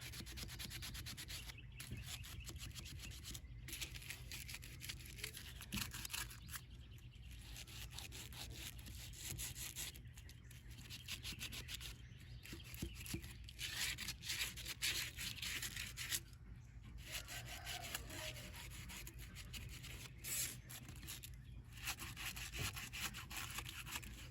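A scrubby pad rubs firmly against a dirty surface during a cleaning product test, giving a continuous rough scratching, close but faint, with brief pauses between bursts of strokes.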